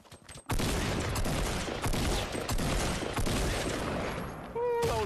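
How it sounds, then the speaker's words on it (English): Fortnite gunfire, a dense, loud burst of rapid shots running almost continuously for about four seconds after a short quiet start, then cutting off. "that was terrible shooting"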